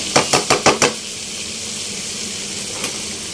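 Shrimp and onion dopiaza cooks in a pan beside frying eggplant. Five quick metal taps of a spatula come in a regular rhythm, then a steady, close sizzle continues alone.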